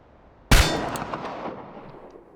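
A single pistol shot at target practice in the game Chernobylite: one sharp, loud crack followed by a metallic ringing decay that fades over about two seconds, with no other sound around it.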